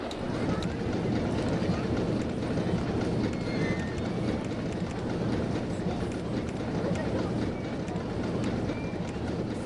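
A roller coaster test train runs in the RollerCoaster Tycoon video game, a steady rumbling rattle of the train on track with continuous whooshing, unbroken and moderately loud throughout.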